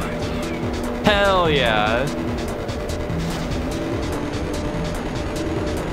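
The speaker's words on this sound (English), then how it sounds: "Try and drift all the way around this" A car drifts in Ridge Racer Type 4 on PSP, its tires giving one loud, sustained squeal lasting about a second over a racing engine hum, while a player talks and cheers.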